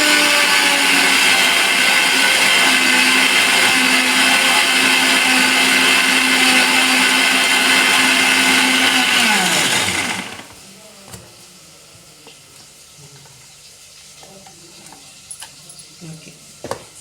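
An electric mixer grinder whirs loudly and steadily as it grinds coconut for a bitter gourd curry, then winds down and stops, leaving a quiet kitchen with faint clinks.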